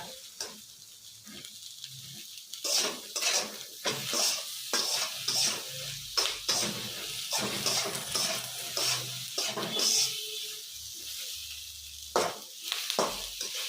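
Boiled potatoes frying in ghee for dhaba-style aloo bhuna, with bursts of sizzling and scraping stirring against the pan in an uneven rhythm, close by and without talk.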